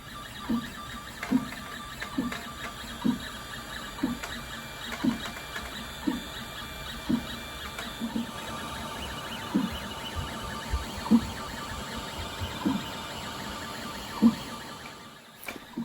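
An engraving machine cutting Christmas decorations gives a regular mechanical pulse, roughly once a second, over a continuous whirring hum, close and fairly quiet until it stops at the very end.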